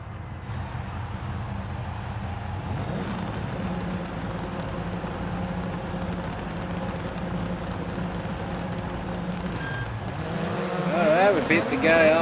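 Rallycross race cars, including a 600HP Subaru, idling and revving on the starting grid, a steady engine drone with rising and falling revs and a louder surge near the end, heard from inside a car.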